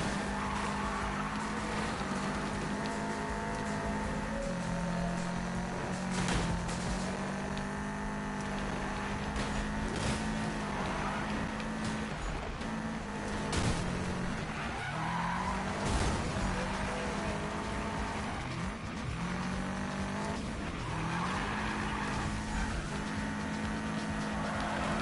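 A car drifting in Need for Speed: a sustained engine drone with long, wavering tire squeals and skids that run continuously and loudly throughout.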